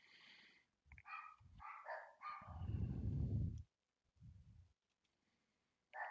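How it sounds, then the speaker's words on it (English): Dogs barking indoors in a house, several separate barks and a longer loud burst of barking, with short pauses between, heard alone without talk. "Pardon the dogs barking."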